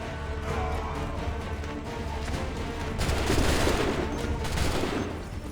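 Musket volley from a line of soldiers in the video game Assassin's Creed 3, a loud burst of overlapping gunfire that swells midway through and lingers amid ongoing battle noise, with no talk during it.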